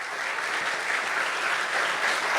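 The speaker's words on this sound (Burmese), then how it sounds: "ဟာလေလုယာလက်ခုပ်တီးမှာချီးမွမ်းကြရအောင်" A church congregation at a youth conference in Yangon claps in praise, a dense and steady wash of applause from a large crowd that holds throughout.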